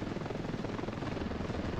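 Military helicopter in the game Ravenfield, a dense continuous rotor thrum with fast steady chopping pulses, close and loud, no talk.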